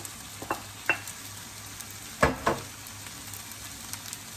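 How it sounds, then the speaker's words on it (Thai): Fried rice with shrimp and peas stir-fries over high heat, giving a constant sizzle and several sharp spatula clacks against the pan, the loudest pair near the middle. "จากนั้นก็ใส่กุ้งลงไปคลุกเข้าไปด้วยกันเลย"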